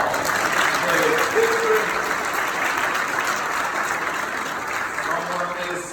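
A crowd at an MLK commemorative service claps for Mayor Messam, a dense, sustained round of applause that swells early and then slowly tapers off.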